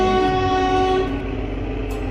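A train on the Kalka-Shimla railway in the Himalayas sounds a loud, steady horn tone that cuts off after about a second, leaving rumbling rail noise.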